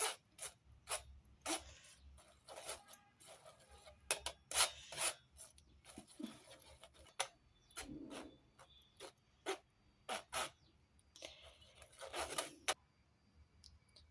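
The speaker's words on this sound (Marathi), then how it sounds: "हे बेसन चाळूनच घ्यायचं, कधी पण तसं घ्यायचं नाही" Gram flour (besan) for dhokla is sifted through a sieve, giving repeated scratchy rasping and rubbing strokes in short irregular bursts. The sound is close but quiet, with soft thumps between strokes.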